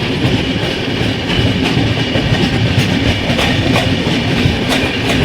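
The 15078 Gomti Nagar–New Jalpaiguri Express rolls along the rails near New Jalpaiguri, with a loud, continuous rumble and rhythmic clatter of the wheels heard from inside the coach.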